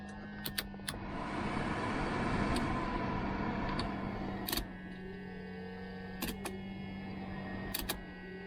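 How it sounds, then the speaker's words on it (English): A steady broadband whoosh of air conditioning fans blowing inside a 1990 Range Rover, with a constant low hum and a few sharp clicks scattered throughout. "aircon fans kicking in."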